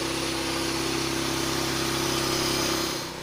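Bandsaw mill motor running steadily while cutting, a loud continuous hum with an even drone that eases slightly at the end.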